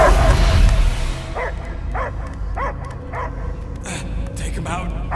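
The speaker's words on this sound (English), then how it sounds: "I hear only barking" A dog barks in repeated short yips and bow-wows in the Guardians of the Galaxy video game, several distinct barks spaced about half a second apart over a low rumbling background.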